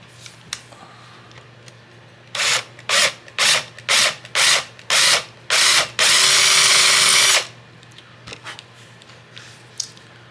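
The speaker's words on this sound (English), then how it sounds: "the drill bit will follow where it's going, so this is pretty easy to do" Power drill enlarging a bolt hole in a 1957 Gretsch 6120 guitar, seven short whirring bursts in a regular rhythm followed by one longer sustained run, close and loud over quiet room tone.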